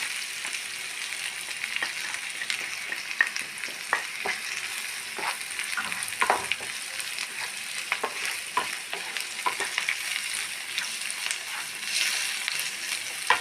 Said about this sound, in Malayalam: നന്നായി ഫ്രൈ ആയിട്ടുണ്ട്